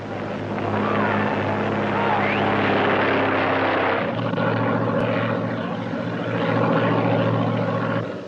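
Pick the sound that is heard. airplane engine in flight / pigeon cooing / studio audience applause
airplane engine in flight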